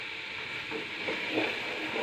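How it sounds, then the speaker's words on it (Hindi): Onion-tomato masala for chana pulao sizzles and fries in a pan: a soft, steady hiss with faint stirring scrapes, heard close and quiet with no talking. "ये मसाले की जो है अच्छी तरह भुनाई कर लेनी है"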